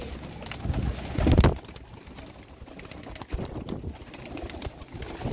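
Several Teddy pigeons coo softly and steadily nearby, with a brief burst of rustling or wing flutter early on.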